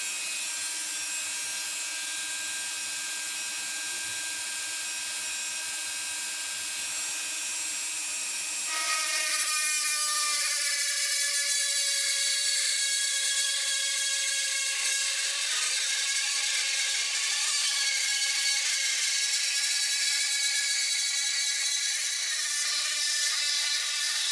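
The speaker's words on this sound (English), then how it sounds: "I'm just going to use the little plastics cutter on my Dremel and just knock that out" A Dremel rotary tool fitted with a plastics cutter whines steadily while cutting out plastic during intercooler piping work on a right-hand-drive 370GT. The high, close buzzing shifts to a sharper, louder cutting tone partway through and continues without pause.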